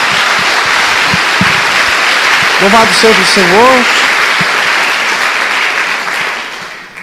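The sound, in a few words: congregation applauding in church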